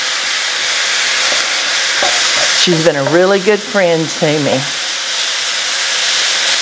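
Food browning in a pan on the stove, a steady sizzling and frying hiss running throughout, while a voice speaks briefly in the middle.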